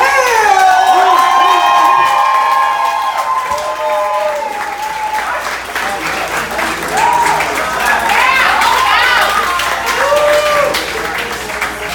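Comedy club crowd cheering, whooping and applauding loudly and continuously for a headliner's introduction, with dense clapping and shouts that swell and stay full throughout.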